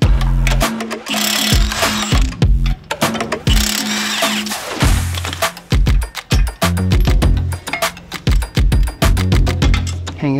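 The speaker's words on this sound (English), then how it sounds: "I'm going to use a 21 millimeter socket to remove the two bolts securing this caliper to the knuckle" A 21 mm socket spins out the brake caliper bolts on a Jeep JL Wrangler or JT Gladiator knuckle: loud, close bursts of a rapid mechanical rattle, then a string of sharp clicks and taps.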